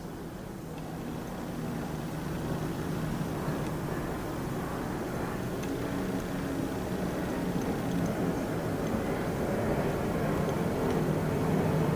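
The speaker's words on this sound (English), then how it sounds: "There's a plane flying overhead" An airplane passes overhead as a low, distant, steady drone that slowly swells louder over several seconds, with no voices over it.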